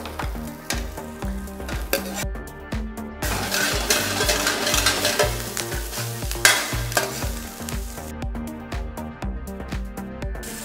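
Ground cumin and coriander spices being stirred and fried in oil in a pot for clay pot chicken, a steady close sizzle with scraping stir strokes throughout, no talking.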